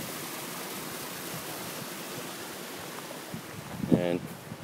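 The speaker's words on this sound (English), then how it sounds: "This is looking down on the waterfall." A waterfall heard from the top, a soft steady wash of falling water throughout, with a brief voice near the end.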